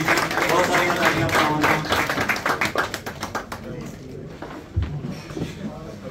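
Applause from an audience at a prize distribution ceremony in Peterborough, a dense run of clapping that fills the first few seconds and then thins out, with voices talking underneath.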